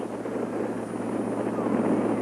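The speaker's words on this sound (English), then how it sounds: "gusts of wind up into the high 40s" Constant wind gusting into the high 40s mph buffets the microphone at a Minnesota 9-man high school football game, a low, rushing roar that stays steady and loud throughout, with no clear gaps between gusts.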